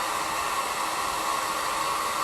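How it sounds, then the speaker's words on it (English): A blow dryer runs on a shirt being made, a steady loud close-up whooshing roar with no breaks, no talking. "I hope you can hear me over the blow dryer"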